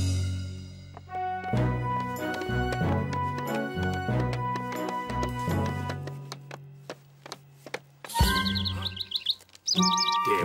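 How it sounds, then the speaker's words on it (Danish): A cartoon bird chirps and tweets in short bright calls over a busy musical score, with louder clustered chirps standing out near the end. "Den fugl kan virkelig lide at være her, Tom."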